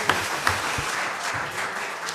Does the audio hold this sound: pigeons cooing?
no